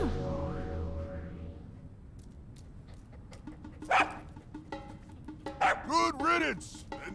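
A dog in Zelda: Breath of the Wild barks in a few short, sharp bursts, one near the middle and a louder cluster near the end, over a soft, steady in-game music bed.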